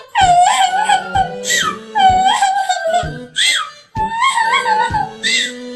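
A voice imitates a small bird crying, giving high, wavering wails and whimpers in several drawn-out bursts with short pauses between them.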